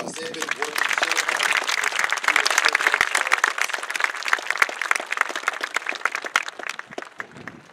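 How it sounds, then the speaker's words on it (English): Audience applause at a 2021 high school graduation ceremony, a dense burst of many hands clapping that swells and stays loud for several seconds before thinning, with voices faintly mixed in. "let's give them another round of applause"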